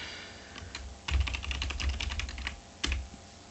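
Quick typing on a computer keyboard, close and fairly faint, with clusters of light key clicks and a couple of heavier strikes, alone without talk.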